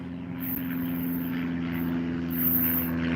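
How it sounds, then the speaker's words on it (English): Old propeller plane flying overhead, a steady loud droning hum with a strong low tone that holds throughout, close and unbroken. "Check out this prop plane."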